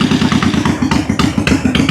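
A Honda VT1100 motorcycle V-twin with a cranking fault, previously running on one cylinder, idling in a workshop test run, loud and close with a rough, lumpy pulsing rhythm and mechanical clatter.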